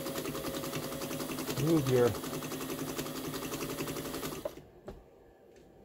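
A Pfaff 130 sewing machine runs in a steady rapid stitching rhythm up close while a person talks over it, then it stops near the end, leaving a faint click.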